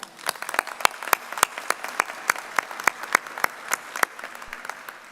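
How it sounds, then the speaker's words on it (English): Scattered, uneven clapping from a modest commencement audience saluting the faculty, with distinct individual claps spread across the whole stretch and no voices over it. "Please join me in saluting our faculty with a round of applause."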